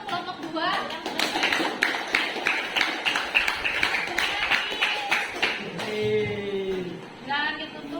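A group claps in a steady burst of applause with overlapping taps, then voices speak as the clapping fades out.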